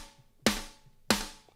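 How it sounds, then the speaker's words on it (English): Two hits from a Yosh Drum Warehouse drum sample with the overhead mic blended in land about 0.65 seconds apart, each a crisp attack trailing into a slightly longer, airier tail. "You got a little bit more wetness if you add the overhead version."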